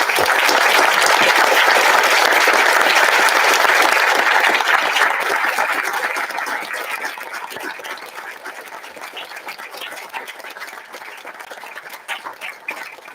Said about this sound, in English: please stand and join me in applause for Mrs. Eleanor Cole, honorary alumnus at Ross Lake College.